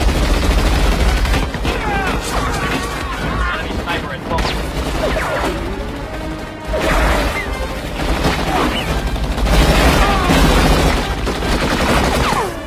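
Rapid gunfire in a war film scene, loud bursts of shots crackling over a dense battle din, with a voice narrating over much of it.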